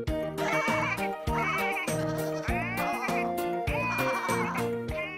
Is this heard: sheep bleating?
yes